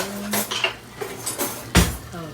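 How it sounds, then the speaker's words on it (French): A spoon clinks against a cooking pot while stirring meat for côtelettes (mipanzi), giving several close, irregular metallic scrapes and taps. "il faut que je prenne aussi la cuillère. Comme ça, je veux essayer de faire tourner un peu."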